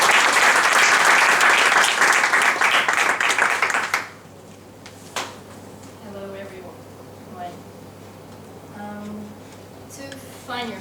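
Loud audience applause at a Toastmasters speech, dense clapping for about four seconds that then stops abruptly, followed by a quiet room with faint sounds.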